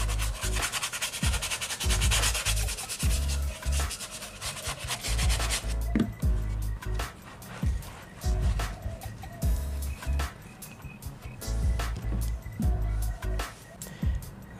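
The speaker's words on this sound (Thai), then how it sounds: "แล้วก็จะจุ่มน้ำเล็กน้อยนะครับแล้วก็เราก็จะเริ่มขัดกันดูนะครับว่ามันจะเป็นยังไงนะครับ" A brush scrubs a sneaker dampened with water and Dr.Sneaker dry-clean cleaner, producing loud, close, rhythmic rubbing strokes that repeat rapidly and continue throughout without speech.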